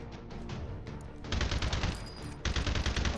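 Rapid automatic gunfire in a video game, coffin mags loaded with AP ammo being emptied in two long bursts of closely spaced shots, loud and near, separated by a short pause.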